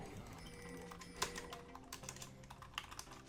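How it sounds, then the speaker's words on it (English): Keyboard typing during a League of Légends match, steady clattering keystrokes close up with one sharper key strike, running alone at a low level under faint game sounds. "I don't know why I'm typing all caps"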